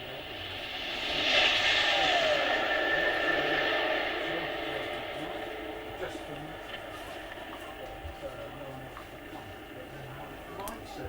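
A four-engine aircraft makes a low pass at RAF Kemble, its engine roar swelling loudly overhead and then fading into the distance, with people talking underneath.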